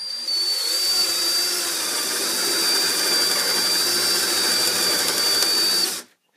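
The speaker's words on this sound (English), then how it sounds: "I'm going to drill a hole right where the magnets are." A power drill whirs steadily and loudly for about six seconds, boring a partial hole into wood, its high motor whine holding constant before stopping abruptly.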